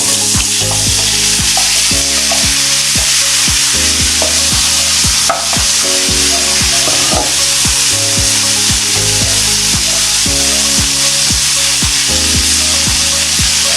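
Radish, carrots and chayote are stir-fried for sautéed mixed Filipino vegetables, giving loud, continuous sizzling with repeated sharp clacks of a utensil scraping and stirring in the pan, close up and with no talk.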